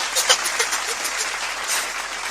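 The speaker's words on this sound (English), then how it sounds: "I need a round of applause for that real quick" A small audience gives a brief round of applause during a sports talk show, a dense wash of clapping at an even level, heard alone without speech.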